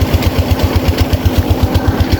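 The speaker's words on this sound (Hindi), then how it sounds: "अल्हम्दुलिल्लाह दोस्तों पीटर इंजन हमारा आसानी से स्टार्ट हो गया है" A Peter diesel engine powering a water pump on a village farm runs close by with a loud, fast, steady thumping beat and a low throaty drone, with no voices.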